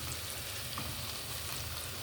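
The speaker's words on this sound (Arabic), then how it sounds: "هنعمل تقليه زي تقليه المحشي بالظبط" Onion taqliya for Egyptian rice kofta fries in fat in a pan, giving a steady, dense, close sizzle throughout with no talking.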